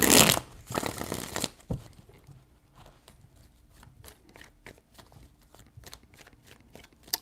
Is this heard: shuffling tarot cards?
yes